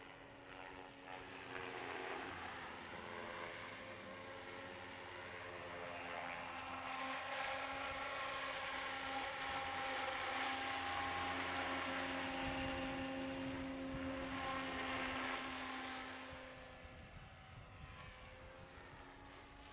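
A SAB Goblin 570 KSE radio-controlled helicopter flies outdoors on a windy day. Its rotor hum and whine stay steady and moderately distant, swelling louder as it passes closer and then fading again.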